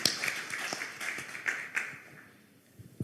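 Scattered clapping from a small workshop audience after a speech, sparse and fairly faint, individual claps audible before it thins out.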